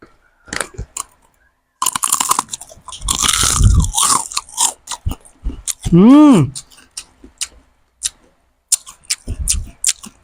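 Sour cream and truffle flavor chicken skin chips in a 170-gram pack, crunched close to a microphone: sharp, loud bites and chewing crunches come in bursts with short pauses, mixed with brief vocal sounds.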